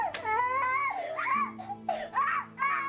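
A young child screams and cries in loud, wailing bursts with short breaks between them, close and piercing, with some babbling mixed in indoors.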